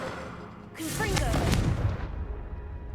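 A Confringo spell blast goes off in the video game Hogwarts Legacy, a loud explosive burst with a whooshing, crackling tail that fades over a couple of seconds.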